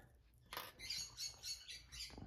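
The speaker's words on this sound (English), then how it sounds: "Oh, my birds are saying hi." Pet birds squawk and chirp in a burst of several short, bright calls close by in a quiet room, over a low background hum.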